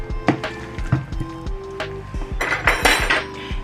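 A spoon mixing potato salad in a bowl, with irregular clinks, knocks and scrapes against the dish and a few louder rattling strokes, close and alone.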